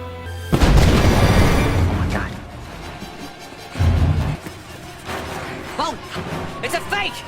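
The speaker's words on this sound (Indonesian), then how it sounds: "cuplikan video gedung putih yang tiba-tiba hancur oleh ledakan" Deep booming blasts from a film scene of the White House being destroyed by an explosion, two heavy low rumbles separated by a quieter stretch, followed by fainter tonal sounds and brief voices.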